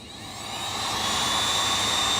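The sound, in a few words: heat gun running to melt ski wax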